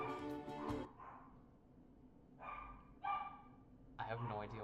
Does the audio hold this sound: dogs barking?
yes